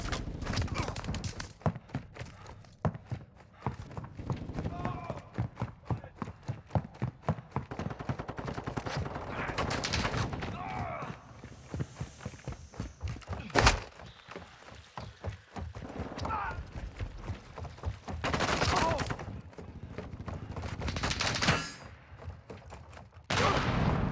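Gunfire in Call of Duty Modern Warfare II multiplayer, with rapid automatic bursts and repeated shots close by, broken by brief pauses and occasional heavier blasts over continuous game noise.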